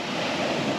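Ocean waves wash steadily onto a beach in a continuous broadband rush, with some wind across the microphone, and no voices.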